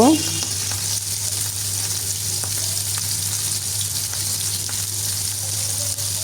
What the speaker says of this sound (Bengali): এক পিঠ একটু ভাজা হয়ে গেলে আমি আরেক পিঠ উল্টে দিব